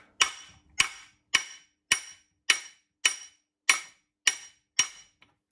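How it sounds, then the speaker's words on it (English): A small hammer taps a transmission axle out of its fittings during a Mopar 833 four-speed teardown, giving nine sharp metallic strikes at an even pace, close and clear with no talk. "small hammer, like this one, that's the one I use"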